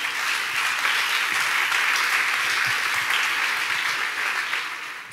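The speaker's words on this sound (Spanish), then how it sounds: "Dale un buen aplauso a Jesús." A church congregation claps for Jesus in a large hall: dense, sustained applause from many hands, steady and loud for several seconds before tapering slightly at the end.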